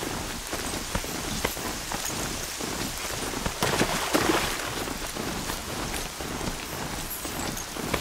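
Steady rain in the Horizon Zero Dawn video game world, a dense, continuous hiss of drops with a slightly louder swell midway, no voices.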